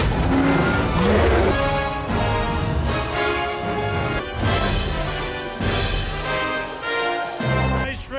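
Cars race in a Ready Player One movie scene, with loud, continuous engine roars and revving swelling and receding over a dense music and effects mix.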